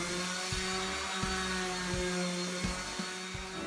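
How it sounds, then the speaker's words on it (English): A power sander works over wood being prepared for a DIY multi-guitar rack, giving a steady motor whine with rhythmic dips and surges as it passes over the boards. "I finally finished sanding all of the wood"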